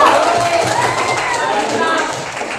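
A classroom of students breaks into applause, a dense, loud wash of many hands clapping at once that holds steady and fades slightly toward the end.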